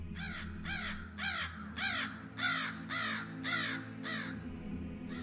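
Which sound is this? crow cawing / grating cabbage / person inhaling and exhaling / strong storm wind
crow cawing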